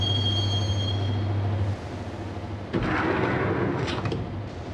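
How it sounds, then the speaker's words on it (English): In the Max Payne video game, a train rolls toward Roscoe Street Station with a low steady rumble and a tonal hum that drops out, then clanks, rattles and metallic squeals as it slows, loud and close. "the train doors had already shut behind me, and I was in for the ride"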